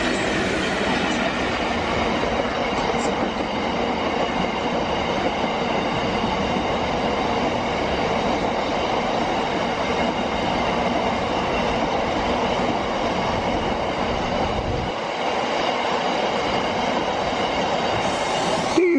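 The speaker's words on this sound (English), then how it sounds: "a freight train coming down towards us" A freight train rumbles steadily past at close range on the line at Ealing Broadway, its wheels and wagons droning with a continuous metallic roar and faint clatter throughout.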